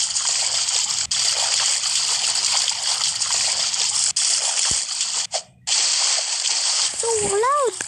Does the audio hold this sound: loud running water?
yes